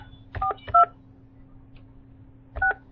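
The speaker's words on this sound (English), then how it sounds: "Please enter the telephone number you wish to dial now" Touch-tone telephone keypad dialing a number, three short DTMF beeps in two quick clusters, clear and close over a faint steady hum, with no talking.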